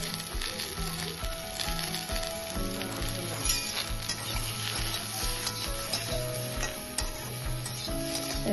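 Koi fish with potatoes, salt and turmeric frying and being stirred in a pan for a cauliflower curry, giving a loud, continuous sizzle with faint utensil movements and a low steady hum underneath.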